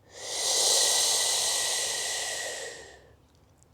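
A person takes a slow, deep inhale during a breathing exercise, a single long, close hiss of air that swells, holds steady for a few seconds and then fades, with no talking.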